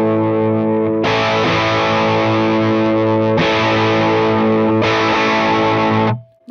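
Distorted electric guitar through a Fractal AX8 amp model with a relocated master volume, three loud sustained chords ringing out one after another, alone, then a quick cutoff.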